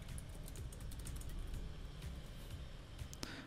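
Steady rapid typing on a computer keyboard while coding an HTML contact form, with a dense run of close, moderately quiet key clicks and no voices.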